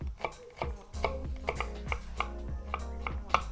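A knife minces shallot and garlic, tapping rapidly and steadily on a cutting board, close and crisp, about three chops per second, with no voices.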